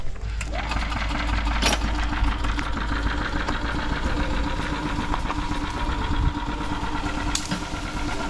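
A golf cart engine runs with a steady, close, continuous drone and faint mechanical clicks while it pulls vines out of trees, holding an even loudness throughout.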